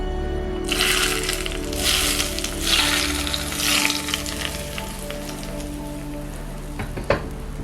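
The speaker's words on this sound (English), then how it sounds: "to finish our dabu-dabu, we add some hot oil" Hot oil hits a bowl of dabu-dabu sambal and sizzles loudly in surging waves, then settles into a softer crackle before a small clink near the end.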